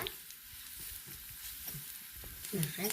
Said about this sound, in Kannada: ಸಾಸಿವೆ ಹುಟ್ಟು ಶಬ್ದ ಕೇಳುತ್ತಲ್ಲ